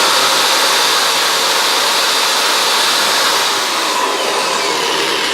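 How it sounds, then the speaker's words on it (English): Power drill boring a hole just below the lip of a plastic tray, a continuous high-pitched whir holding steady for several seconds with no speech. "I'm just going to drill a hole right below the edge of the lip."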